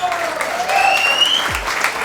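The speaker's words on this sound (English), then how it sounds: "Give him a round of applause." A group of people breaks into a round of applause for a member of a newly formed football team, the clapping steady and fairly close, with some voices and cheering mixed in.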